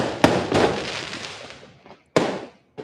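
New Year fireworks bursting in Bali, several sharp booming explosions with long crackling decays, loud and fairly close, separated by short gaps of quiet.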